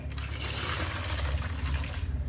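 Water sloshing as soaked rice and urad dal are rinsed by hand for idli batter, a steady close splashing and swirling that runs unbroken and fairly loud throughout, with no talking.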